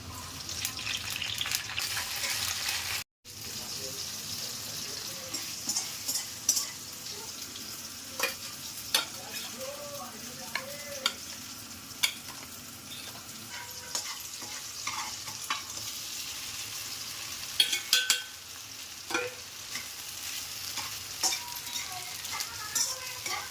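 Chillies fry in hot oil for a shabu recipe, with steady faint sizzling. Scattered scrapes and clinks of stirring come through the sizzle, and a brief break interrupts the sound early on.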